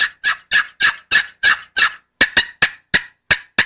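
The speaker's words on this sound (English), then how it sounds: "Everybody always likes to hear the turkey gobble." Wild turkey gobbling in a spring hunt, a rapid series of about fourteen sharp, loud yelping notes in two bursts with a brief pause between, close and clear with no talk.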